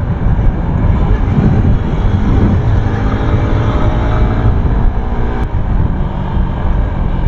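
A car cruises in fifth gear at around 130, its engine holding a steady, loud drone with broad road and wind rumble, continuous and close throughout.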